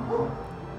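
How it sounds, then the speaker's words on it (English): A single short dog bark or yip rings out nearby at an indoor site, followed by a low steady background hum with no talking. "Dog is barking."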